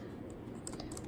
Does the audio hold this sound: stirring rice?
no